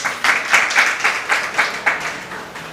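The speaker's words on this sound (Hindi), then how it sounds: "ताली बजाओ।" An audience at a Jain sermon claps in a steady, rhythmic beat, loud and close, the hand claps falling in even pulses without any talk over them.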